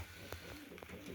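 A tame pigeon hen perched on a person's head coos softly, giving a few short, quiet, throaty pulses close to the listener.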